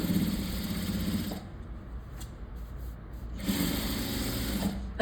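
A sewing machine stitches thread piping along the edge of a velvet blouse in two close, steady whirring runs, with a short quieter pause between them.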